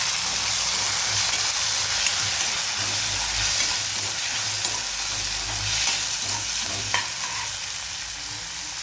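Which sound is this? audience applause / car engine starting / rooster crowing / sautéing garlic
sautéing garlic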